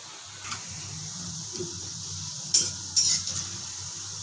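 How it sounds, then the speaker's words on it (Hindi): Corn bhajiye (fritters) frying in oil, a low continuous sizzle with a few sharp metallic clinks and scrapes of a utensil against the pan near the end, no speech. "ये देखिए हमारा दूसरा बेज भी फ्राई हो गया है भजिए का"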